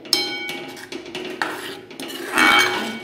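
Metal utensils clank and scrape against a cooking pan in uneven bursts while mixing ground peanuts into a spinach dish, ending in a louder, sustained stirring scrape; no talking.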